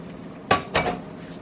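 A spoon stirring a sticky Scotcheroos mixture in a cooking pot, giving two short scraping clinks against the pot in quick succession, fairly close and otherwise quiet.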